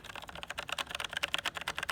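Steady typing on a Logitech MX Mechanical Mini Bluetooth keyboard with quiet non-clicky keys, a continuous run of close, rapid keystrokes with no talk over them.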